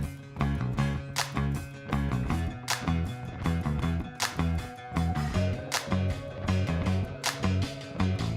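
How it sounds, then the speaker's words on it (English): A simple, open drum beat plays alone in a steady loop, with punchy kicks, snappy hits and bright cymbal accents, joined by a sustained bass tone partway through, loud and close. "really simple open beat that"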